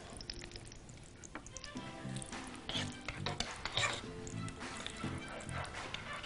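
Ghee melting in a pan for eggplant sheesh with meat gives a faint, low sizzle with soft crackles, and a dog-like whimper comes through in the background.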